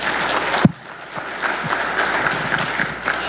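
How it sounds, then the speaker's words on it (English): A conference audience applauding sponsors at a tech event, steady dense clapping from a large crowd after a single sharp thump, continuing evenly to the end. "Let's give it up for them once more."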